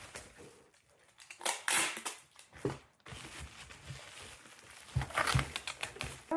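Bubble wrap is crinkled and pressed around a game controller while packing, giving close, irregular crackling and rustling bursts that come and go.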